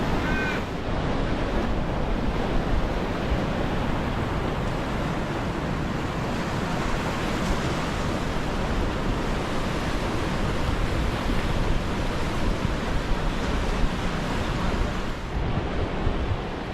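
Indian Ocean surf near Bunker Bay in Western Australia washes in as a continuous broadband roar, close and steady, mixed with wind buffeting the microphone and no voices.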